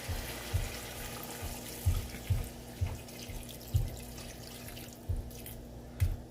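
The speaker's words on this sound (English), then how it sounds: "Now, lastly, pouring the water." Water poured into a pot of beef stew, heard as a run of soft, irregular splashes and gurgles over a low steady hum, close and alone without talk.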